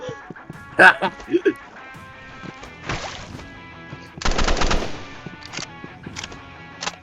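Video game gunfire in short crackling bursts, with a longer rapid volley near the end, heard under and between excited shouting from a player.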